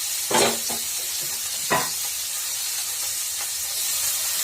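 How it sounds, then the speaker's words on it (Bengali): Chopped onions stirred and fried in a pan for a cauliflower and bhetki fish curry, with a soft continuous sizzle and two or three distinct scraping stirs, close and alone. "পেঁয়াজ কিছু দেওয়ার পর এটা ভালো করে ফেলে নেড়ে দিলাম এটা কিছুক্ষণ ভাজা ভাজা হবে"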